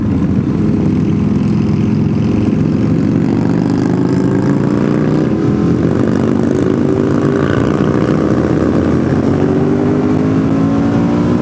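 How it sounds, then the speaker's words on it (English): A motorcycle engine, a Harley, rumbles loudly and steadily nearby on a road, its pitch rising and falling slightly as it revs, with no voices. "He's revving his engine."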